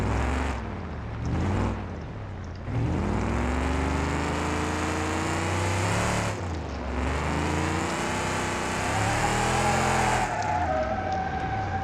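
A Lincoln car in BeamNG drifting, its simulated engine droning loudly with rising and falling revs and sliding pitch sweeps, briefly dipping around a few shifts, with no talk over it.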